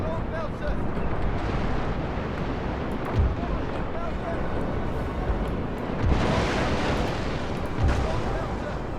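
Ships' cannon broadsides in the naval battle game Napoleon Total War: heavy booms land a few seconds apart over a constant dense roar of battle noise, with no speech.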